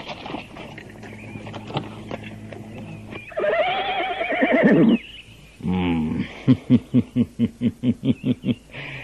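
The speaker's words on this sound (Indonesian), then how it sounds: "Raja segera mendatangi Pak Rapuh dengan menunggang kereta kuda" A horse whinnies loudly, then a horse-drawn carriage's hooves clip-clop in a steady run with a clear, even rhythm, close by.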